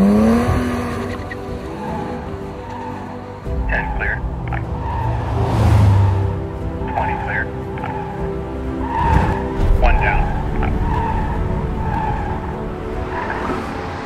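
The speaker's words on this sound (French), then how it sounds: "Au volant de sa Porsche 718 Spider Roadster, elle a bouclé le parcours des 50 cônes" A Porsche 718 Spyder roadster skids through a slalom course of fifty cones, tires squealing in repeated bursts over a loud engine, with a voice talking over parts of the run.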